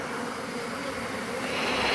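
A dense, steady buzz comes from tens of thousands of Africanized honey bees massed in a hive. The loud, continuous drone fills the moment without pause and has no voices over it.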